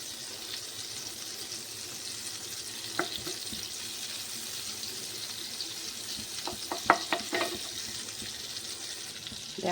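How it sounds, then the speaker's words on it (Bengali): Butter melting in a pan for a tadka gives a quiet, steady frying sizzle under faint stirring, with a few sharp clicks and pops near the end. "এরপরে দিয়ে দিলাম আমি বাটার। ঠিক আছে, বাটারটা গলুক।"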